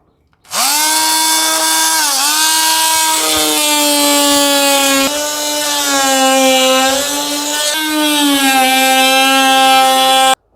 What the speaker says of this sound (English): We'll take the oscillating saw and go ahead and cut out at least 1/2 inch around the whole perimeter of the window here